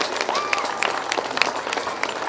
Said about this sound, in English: big round of applause, please, for the old and new sidecars